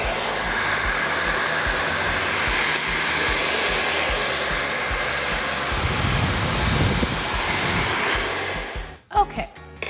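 Hair dryer blowing hot air onto hair during straightening, a steady loud whooshing roar that runs continuously and cuts off abruptly near the end.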